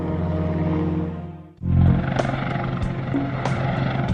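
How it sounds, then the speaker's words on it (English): A Super Puma helicopter flying over the North Sea toward oil platforms gives a steady droning rotor and engine roar, with a sudden louder, rougher surge partway through that then carries on with rhythmic beating. "5-6 Charlie is a Super Puma helicopter serving the North Sea oil platforms off the coast of Britain."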